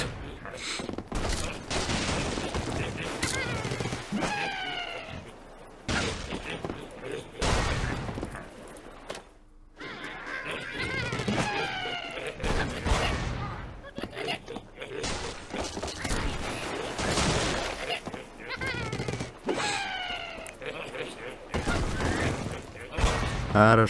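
Dynamite explodes in Angry Birds Seasons during a Piglantis sea level. A series of loud, crashing game blasts repeats for about twenty seconds, mixed with bright chirping game effects and brief quieter gaps.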